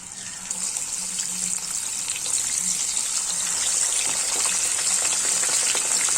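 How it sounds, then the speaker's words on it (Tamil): Fish pieces for a quick fish fry crackle in hot oil, a steady broadband sizzle that swells louder after the first couple of seconds, with a faint low hum underneath and no voices. "இதை நம்ம நல்லா எண்ணெயில் போட்டு பொரிச்சு எடுத்துருவோம்."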